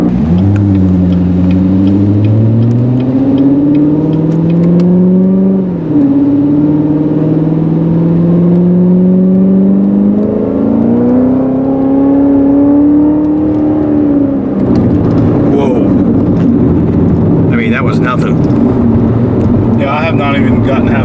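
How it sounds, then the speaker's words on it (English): A 2019 Corvette Z06 exhaust drones loudly up close, its pitch climbing, dipping and climbing again through several revs before breaking into rougher rumble near the end. "This exhaust just makes this car"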